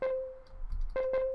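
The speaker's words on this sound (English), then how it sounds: "I started with a clean pluck from the Ricochet one-shot kit" Clean plucked synth one-shot from the Ricochet kit by Loner, a bright tonal note that sounds, cuts off, then returns with two quick plucks over a soft low thump, close and dry.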